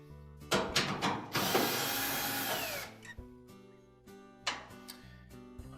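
A power screwdriver or drill backs screws out of the front bulkhead of a Whirlpool dryer, loud whirring bursts in several separate runs, one long sustained spin in the middle, with clicks and handling noise between them.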